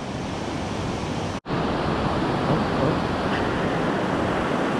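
Ocean surf breaking on a beach where people fish for surf perch, a continuous loud wash of waves with a brief cut in the sound partway through.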